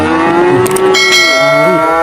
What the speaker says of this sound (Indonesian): Wih, ada si sapi loh begini